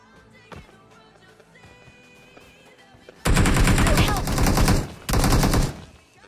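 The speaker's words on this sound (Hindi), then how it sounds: "यहाँ पे मेरे को M4 का साउंड आने लगता है" An M4 rifle in a battle royale game fires in two long, loud automatic bursts, close and dense, after a quieter stretch of distant game ambience and scattered shots.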